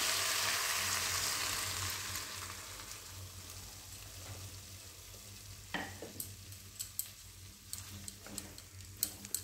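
Water splashes into a pan of frying spiced vegetables for a broccoli curry, a loud hiss of sizzling that fades over several seconds, followed by scattered clicks and light ticks of stirring and spattering.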